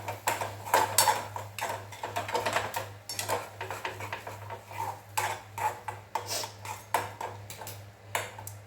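A spoon stirs egg curry in a pan, giving repeated metallic scrapes and taps on the pan at a fairly regular rhythm, close and moderately loud, over a steady low hum.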